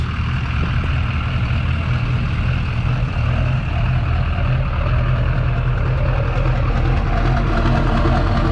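Stock LB7 diesel engine in a truck at a truck show, a loud, steady low rumble with a gruff idle that holds throughout, close by and without talk.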